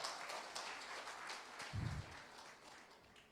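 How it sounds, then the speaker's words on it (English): Applause from an audience at a corporate annual day celebration, a dense wash of clapping running steadily through, with a brief low thump partway in. "let's have a big round of applause for that thought"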